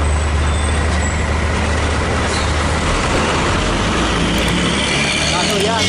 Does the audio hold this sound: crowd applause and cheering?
no